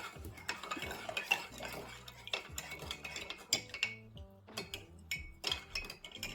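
A spoon stirs garlic salt, garlic powder with salt, into a mixture in a bowl, giving close scraping and clinking taps in uneven bursts, with no voices.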